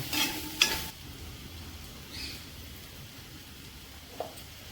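Ground spices, garam masala and two tablespoons of black pepper powder, frying in a pan in Kerala-style meat cooking, a faint low sizzle with a few soft stirring scrapes near the start.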